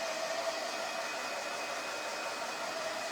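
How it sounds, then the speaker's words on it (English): A warm hair dryer blows steadily over a thickly coated crackle-finish craft project, a loud, even whoosh of air that holds constant with no talking. "Now, this might take a minute to dry it, but my dryer is pretty warm."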